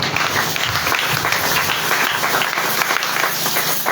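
Congregation at a Congolese church service applauding and cheering, a dense continuous wash of clapping and crowd noise held steady throughout, with no single voice standing out.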